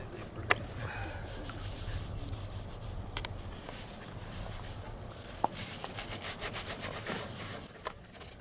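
A Scotch-Brite pad scrubs a plate during camp cooking cleanup, making a steady, faint rubbing scrape with a few sharp clicks scattered throughout.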